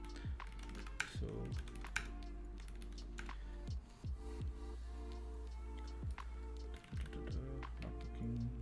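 Computer keyboard typing while searching for FFTW libraries, a steady run of close, quiet key clicks and taps with a low constant hum beneath, no talking.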